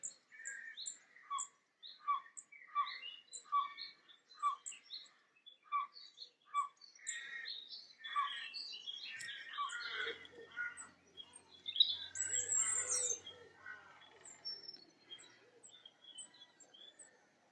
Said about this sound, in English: There's the blackcap.